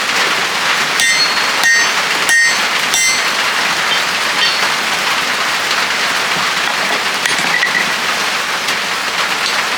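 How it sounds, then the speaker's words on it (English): Steady rain hisses across the whole stretch outside a blacksmith's workshop, with a few sharp metallic taps early on standing out against the wash. "Rain picked up a little bit."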